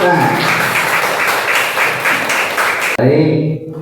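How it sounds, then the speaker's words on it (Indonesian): Children applaud together in a classroom, a loud, steady burst of clapping that runs for about three seconds before breaking off abruptly, with a few voices carrying on afterward. "Tepuk tangan."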